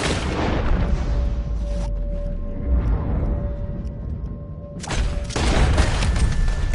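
Cannon fire and heavy battle noise in the video game Red Dead Redemption 2, dense booming rumbles filling the scene continuously, with a fresh loud surge of blasts near the end.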